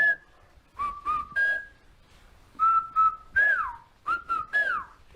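Whistled Chinantec speech from Chiapán, Mexico: a single clear whistler gives a series of short, close melodic phrases of held and gliding tones, separated by pauses, with no spoken voice.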